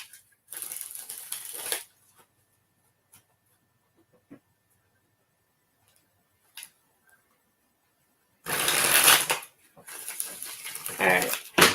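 A deck of cards is shuffled in short bursts of riffling and flicking, one at the start and two more near the end, with quiet pauses and small taps between.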